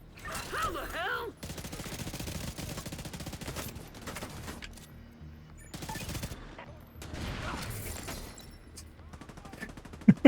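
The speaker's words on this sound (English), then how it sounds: "Point blank rocket launcher." A rocket launcher fired point blank in a video game lets out loud bursts of blast noise at the start and again later, between stretches of quieter rattling game sound, with a voice speaking in between.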